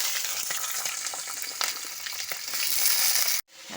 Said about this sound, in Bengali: দিয়ে দিচ্ছি কালো জিরে, দিয়ে দিচ্ছি চেরা কাঁচা লঙ্কা 2টো, দিচ্ছি কেটে ধুয়ে রাখা আলু পেঁয়াজকলি।